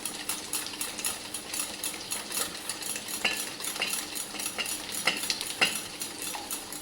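Eggs for an egg curry beaten briskly in a bowl, a steady fast scraping and clicking whisking rhythm with a few sharper taps against the side, close and moderately loud.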